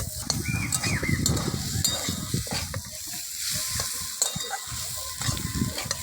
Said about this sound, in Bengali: সবজিটা আমার লাল লাল করে ভাজা হয়ে গেছে।